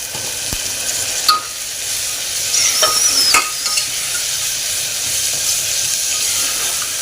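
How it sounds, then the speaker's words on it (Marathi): Black ghevda beans roast in masala in a pan, giving a continuous close sizzle with a few sharp scrapes and taps as they are stirred. "घेवडे आपले छान मसाल्यात भाजून झालेले आहेत।"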